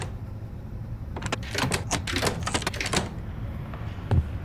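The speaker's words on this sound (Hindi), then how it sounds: "ये दरवाजा क्यों खुल गया" A door creaks open inside the horror video game Summer of '58, a series of short rattling clicks and scrapes over a low room hum, fairly close and with no talk over it.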